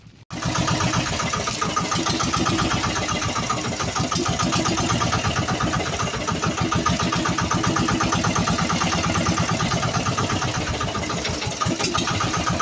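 A boat engine starts with a sharp catch, then settles into a loud, steady chugging idle with a regular rhythmic pulse throughout.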